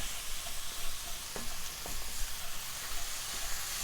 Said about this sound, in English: Just stirring this around a bit, get it all mixed together, keep it cooking.